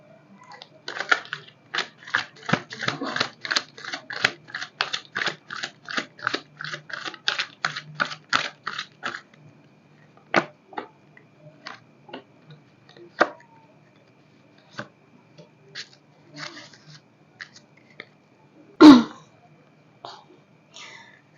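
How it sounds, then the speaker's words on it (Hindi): Tarot cards are drawn and handled in a rapid run of crisp slaps and shuffling flicks, then a few sparse, sharper card taps with quiet gaps between them, heard alone without talk. "मैं थोड़े से और कार्ड्स निकालूंगी,"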